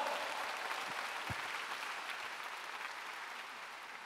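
A church congregation at a large revival meeting in a gymnastics arena applauds, a faint, distant, continuous patter of many hands that slowly fades.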